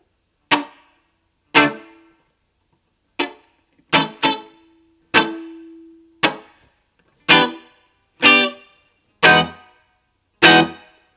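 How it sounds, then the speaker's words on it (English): About eleven crisp reggae chord stabs on electric guitar with reverb switched on. They are spaced in an offbeat skank pattern, each with a short ringing tail, and one chord carries a sustained harmonic hum. "So this is the reverb sound while it's on."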